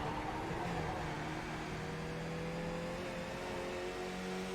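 Race car engine in the iRacing video game, a Skip Barber car at Bathurst, droning steadily at high revs throughout, close and continuous with no talk.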